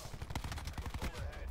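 Rapid SMG fire in a first-person shooter video game, a dense burst of rattling automatic shots that repeat quickly and loudly across the whole short clip.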